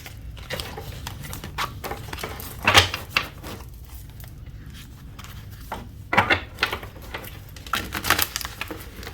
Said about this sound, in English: Rifle shuffle.